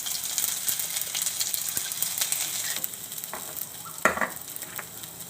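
Asafoetida, ginger and garlic crackle in hot oil, with busy spattering that gradually calms. Sharp scrapes and taps of a spoon against the pan stand out toward the end.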